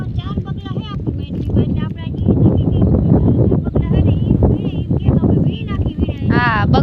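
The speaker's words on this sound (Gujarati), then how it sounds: "પવનનો અવાજ આવતો હોય આનું નહીં સંભળાય" Gusty wind buffets the microphone in low rumbling bursts in an open cotton and groundnut farm field while people talk loudly over it throughout.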